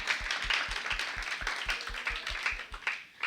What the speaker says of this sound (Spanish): Dele fuerte esas palmas al Rey de Gloria.